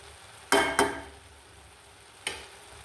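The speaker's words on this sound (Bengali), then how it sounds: "ধনিয়া পাতা দিয়ে নেড়ে চেড়ে দিচ্ছি" Onion stalks fry with coriander leaves in a pan while being stirred, producing two quick scraping stirs and then a third a moment later over a faint, steady sizzle.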